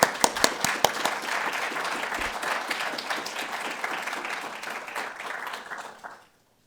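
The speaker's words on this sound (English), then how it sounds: "please join me with a round of applause" An audience applauds as an ambassador is welcomed to the podium at a lecture event: a few sharp early claps swell into steady dense clapping that fades out after about six seconds.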